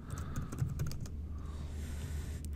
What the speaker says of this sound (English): And you'll notice that I am typing into the internal analysis field